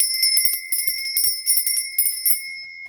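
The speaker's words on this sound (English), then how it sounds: "I'm going to be ringing a bell, and this is just to cleanse the air" A small bell rung for an air cleansing, bright sustained metallic tones struck repeatedly in quick clusters, loud and close with no talking.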